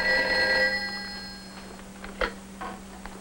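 A telephone bell rings once in an old 1961 recording, a sustained metallic ring that fades over about two seconds. Faint clicks follow over a steady hum.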